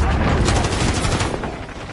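Rapid gunfire in the Call of Duty video game, a dense burst of loud overlapping shots and booms across two seconds.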